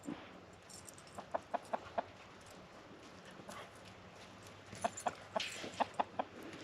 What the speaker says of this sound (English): this is a homestead chicken coop